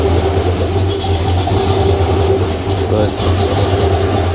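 A Ford small-block 302 project engine, slightly warm and not fully warmed up, idles steadily with a faint surge in its low drone, heard close up under a brief spoken word.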